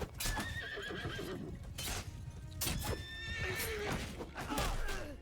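A horse neighing in a medieval battle game, several loud whinnies rising and falling over rumbling hooves and battle noise.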